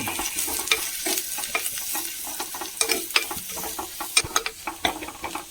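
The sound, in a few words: stirring chili powder into frying masala in a clay pot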